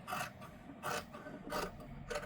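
Scissors cut along the slanted sleeve marking of a nightie's fabric, giving four rhythmic rasping snips, close and fairly quiet, with no talk.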